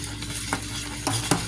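A spoon scrapes and clinks against a pot of instant potatoes in a few quick strokes while food sizzles softly and steadily underneath, close up.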